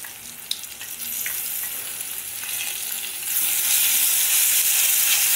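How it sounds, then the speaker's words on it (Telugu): Ginger, garlic and coriander paste sizzles and spits in hot oil for a masala brinjal curry, a steady close crackle that grows louder partway through, with a few small clicks at the start. "ఈ పేస్ట్ని ఆయిల్లో వేసి ఫ్రై చేసుకోవాలి"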